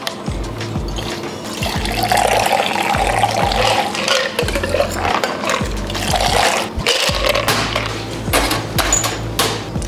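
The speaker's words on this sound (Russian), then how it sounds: "Нам необходимо будет налить 20 мл бальзама мятного, 40 мл кофейного арарата." Mint balsam, coffee liqueur and cherry juice being poured into shot glasses, heard as a run of splashing, trickling pours with short pauses between them, close and fairly loud.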